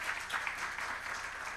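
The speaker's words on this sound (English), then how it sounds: "Please, a round of applause for that." Summit audience applauds in a steady, dense wash of clapping that holds evenly for its whole short length, with no voices over it.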